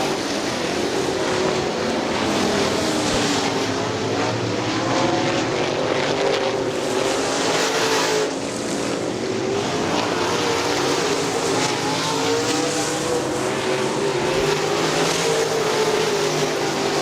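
Late model race cars racing at Crystal Motor Speedway, a continuous loud roar of several engines with pitch rising and falling as cars pass, heard from a distance, with no talk.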